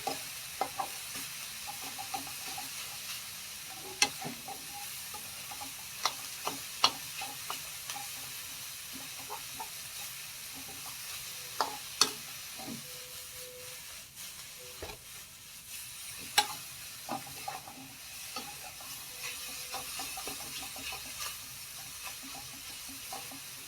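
Pork with egg and star gooseberry leaves stir-frying in a pan, a steady sizzle and hiss with scattered sharp clicks of a utensil scraping and stirring, close and alone with no talk.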